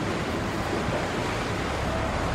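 Water rushes and churns steadily aboard a sinking ship in Uncharted 3, a continuous surf-like wash at moderate loudness with no speech.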